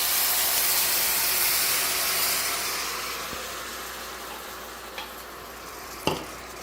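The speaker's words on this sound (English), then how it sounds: "now we are going to add 1 cup of balsamic vinegar." Balsamic vinegar poured into a hot pan for slow cooker short ribs, giving a loud steady sizzle and hiss that gradually fades, with a couple of sharp clinks near the end.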